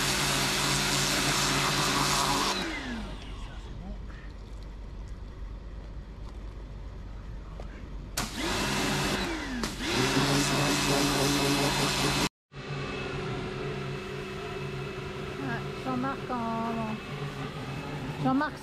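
A small Kärcher pressure washer runs loud and close with a steady motor drone, cutting out briefly and restarting twice, with people talking over it.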